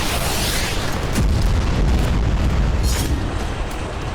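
Heavy booming blasts from Storm Shadow missile strikes on Russian military sites in Kursk, a dense continuous roar with deep rumbling surges and a sharper burst near the start, no voices.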